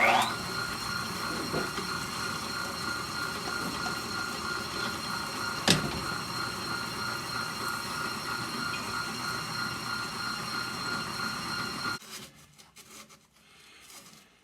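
Drill spinning emery cloth inside the valve guides of a Caterpillar Sixty tractor engine, a steady grinding whir with a sharp click partway through, continuing alone until it stops abruptly near the end.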